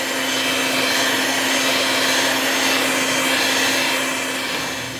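An electric mixer runs at a steady high whir while beating almond coconut cake batter, a continuous close buzz with a slight rise and fall in loudness and no talking.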